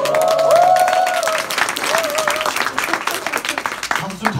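Audience clapping at a seminar, a light, brief patter of applause that fades quickly beneath someone speaking over it.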